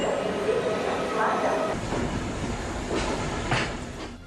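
A train at Mount Lavinia railway station gives off a steady, broad rumble with some clatter, and faint background voices mix into the station noise.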